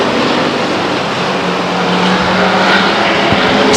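Race cars roaring past at Stockton 99 Speedway, a loud continuous engine drone that swells slightly toward the end as the pack runs single file down the backstretch, with no talk.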